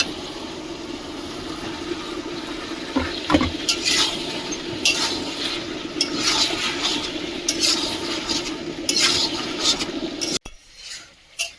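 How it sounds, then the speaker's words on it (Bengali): Meat being stir-fried in a pan while cooking, a steady hissing sizzle with occasional scraping clatter, fairly close and continuous, ending in a brief quiet. "মাংসটা ভালোভাবে কষিয়ে নিচ্ছি"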